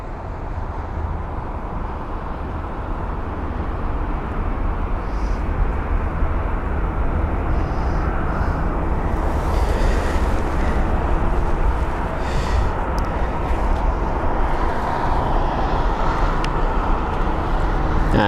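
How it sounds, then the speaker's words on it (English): An Etihad Airbus A380 taxis at London Heathrow with a constant, low, rumbling engine drone that stays level and moderately loud throughout, with no talking over it. "And here it is. The mighty A380."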